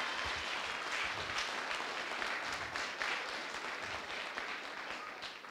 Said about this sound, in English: I would like a round of applause for all of those teachers